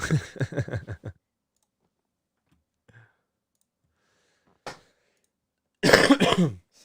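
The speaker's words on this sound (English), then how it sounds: "Sorry for the coughing, guys." A quick run of short, rough coughs up close, a quiet pause, then another loud, harsh coughing burst.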